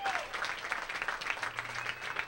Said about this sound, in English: he gets up, gets a hand from the crowd